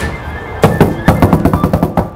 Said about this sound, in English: you can go outside, you can bang on the windows like I'm about to do